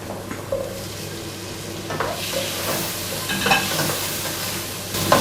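Vegetables with tomato and fresh chilli fry in a hot pan, a steady close sizzle broken by several scraping stir strokes at irregular intervals, with no voices.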